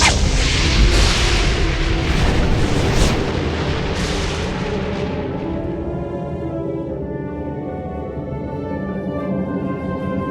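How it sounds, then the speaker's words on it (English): A magical burst of green fire as the evil fairy Maleficent appears: a loud booming whoosh with crackling bursts that fades into a low sustained rumble. "the evil fairy Maleficent appeared in a flash of green fire"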